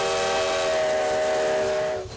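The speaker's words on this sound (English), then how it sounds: "On a bright summer afternoon, the Ghost Train of Ely, Nevada rides again." Coal-fired steam locomotive engine number 93, built in 1909 and running at Ely, Nevada, blows a long, loud, steady whistle that cuts off near the end, with no voices.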